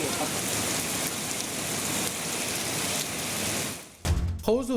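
Heavy nighttime rainfall hisses as a steady, close wash of drops for about four seconds, then suddenly drops away before other brief noises follow.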